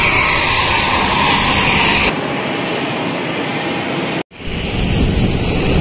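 An airliner just after landing at Langkawi, its loud, steady jet engine roar filling the scene, then dropping in level, cutting out briefly and resuming.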